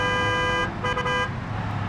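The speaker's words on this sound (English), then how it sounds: "We'll honk our horn to let them know they're coming through the intersection." A truck horn honking in the video game BeamNG: a loud, close, buzzy tone that sounds for a long first blast, breaks briefly, then sounds a shorter second blast, with engine rumble underneath.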